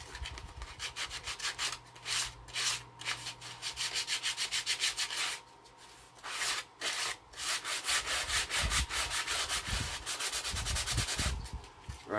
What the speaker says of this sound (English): We'll go over a little bit inside here with sandpaper.